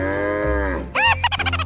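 Game-style cow mooing from a 3D animal video game, a single drawn-out moo followed by short bursts, loud and close over continuous upbeat background music.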